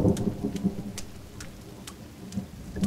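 Rain and a thunderstorm in the survival video game The Forest: steady rainfall with low rumbling thunder and repeated sharp crackling bursts, heard alone with no speech.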